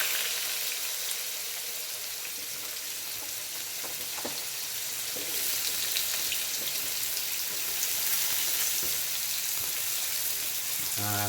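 Potatoes frying in oil tempered with asafoetida, giving a dense, steady hiss of sizzling that swells slightly midway, with a few soft stirring knocks, close and continuous without speech.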